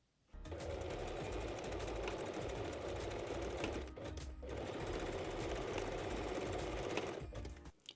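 A sewing machine stitches a straight seam on lace bra straps, two close bursts of rapid, even mechanical rattling with a short pause between them.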